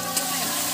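Ginger dropped into a hot pan with onion for a chana masala sizzles and fries in a steady, close, bright hiss, with a light stirring scrape throughout.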